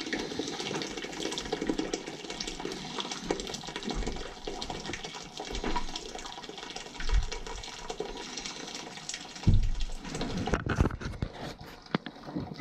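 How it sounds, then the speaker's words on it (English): Water rushes out of the bottom of a rusted, leaking steam boiler as it is flushed, a steady loud gushing hiss with a few deeper surges and gurgles near the end. "I just want to flush the bottom, get the gunk out."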